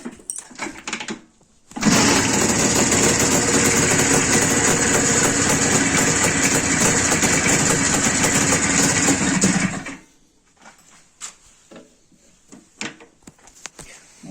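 An IZh motorcycle engine fitted with a CDI ignition kit fires up abruptly, runs loud and steady for about eight seconds, then cuts out, leaving faint clicks and handling noises before and after.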